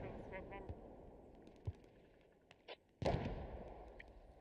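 A grenade explosion in the competitive squad shooter Rivals, a sudden loud blast near the end after scattered small pops and faint voices.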